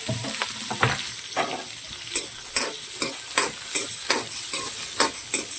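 Chopped onions fry in hot oil in a kadai for a mutton gravy, a loud close sizzle punctuated by regular scraping stirs roughly every half second.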